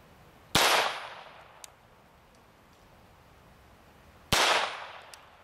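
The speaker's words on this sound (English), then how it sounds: "Starting it off right with a .22 long rifle out of this pistol." Two sharp .22 long rifle pistol shots strike a titanium plate, each a loud crack with a short ringing tail, spaced a few seconds apart with faint ticks between.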